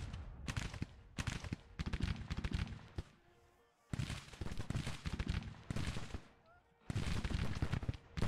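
Civil War battle gunfire in the strategy game Grand Tactician, arriving as repeated rolling volleys of massed musketry separated by short lulls, with a voice talking faintly between them.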